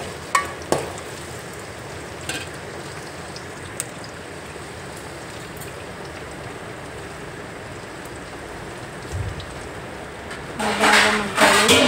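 Sliced onions and green chillies softening in a pan for a gongura dried-fish curry, giving a constant close hiss of frying. Occasional spoon clicks break it, and a louder burst of sizzle comes at the very end.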